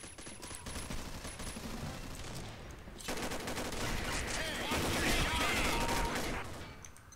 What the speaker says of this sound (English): Who are you shooting at, Willis?